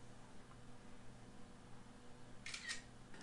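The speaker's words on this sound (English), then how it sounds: "Snap the shutter" A CamScanner smartphone app fires its shutter sound while scanning a document page, one short crisp click standing out from a quiet room background.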